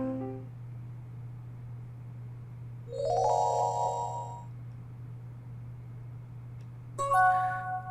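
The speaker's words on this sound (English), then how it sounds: "I wake to the sound of a text message." A video game's text message notification chimes twice as short bright melodic tones, the first a rising jingle and the second a sharper alert a few seconds later, over a steady low hum.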